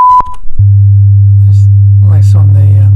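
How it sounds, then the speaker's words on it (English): A loud, steady 100 Hz sine test tone from an oscillator comes on after a brief higher tone and holds unchanged, with a voice talking quietly over the end. "Let's go back to 100 Hertz"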